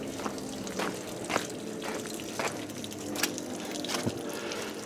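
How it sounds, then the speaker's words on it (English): Water trickles and drips steadily while a 1959 Axeman Anderson 130M boiler is flushed out, with irregular splashes and drops over a low background hiss. "Alright, here we are flushing out the boiler."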